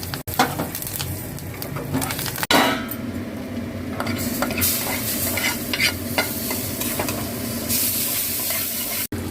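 A tempering of kasuri methi, curry leaves and a little Kashmiri chilli powder sizzles loudly in hot oil, with continuous frying hiss and close scraping stirring, plus a couple of sharp knocks of a utensil against the pan.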